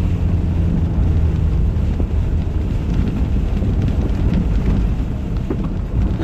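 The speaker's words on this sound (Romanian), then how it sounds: "observăm că vântul deja își face apariția" Strong wind buffets the microphone in a loud, constant low roar that lasts throughout, with no one speaking.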